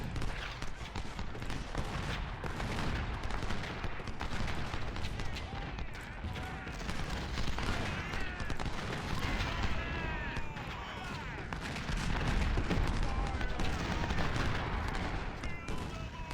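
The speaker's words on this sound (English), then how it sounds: "Gotta get rid of those cannons. They're causing a lot of problems right now." In a battle video game, cannon booms and rifle fire crackle as dense, continuous volleys of gunshots and distant blasts over a busy background din.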